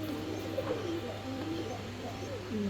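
A lead-coloured male Andalusian pigeon coos in a few low, rolling phrases over a steady background hum, close by and fairly quiet.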